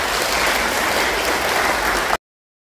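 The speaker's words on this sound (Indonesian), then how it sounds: "Mari kita aplaus." A congregation at a Catholic wedding mass for Joni and Ningsih applauds the newlyweds with loud, dense, sustained clapping that fills the church and then stops abruptly.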